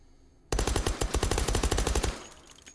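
A suppressed 1911 pistol in the VR game H3VR fires a rapid burst of about twenty close, sharp shots in under two seconds, followed by a brief fading tail.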